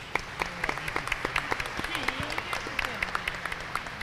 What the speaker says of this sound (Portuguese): Podem dar uma salva de palmas para eles.